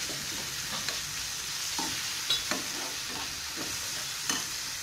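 Chicken pieces frying with softened leeks in a pan for a quiche filling, a steady soft sizzle with occasional stirring scrapes and clicks, close and alone without talk.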